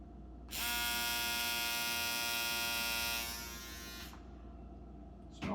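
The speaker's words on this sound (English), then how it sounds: "Turn it on again." A Remington PF7855 electric foil shaver switched on, giving a close, steady high-pitched buzzing whine that runs for several seconds, drops slightly in level, then stops.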